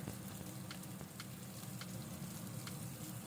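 Chopped onion, curry leaves, dried red chilies and sliced garlic sizzle steadily in hot oil in a pan, a continuous close frying hiss with faint crackles throughout.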